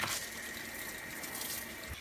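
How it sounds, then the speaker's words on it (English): Water runs steadily from a hose or tap into a van shower pan as sandy, muddy shoes are rinsed off, a continuous close hiss and splatter with no talking. "it's a great spot to just hose off your shoes or your legs or your feet"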